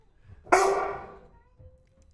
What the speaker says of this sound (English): Gary's got his dog in here on a Friday.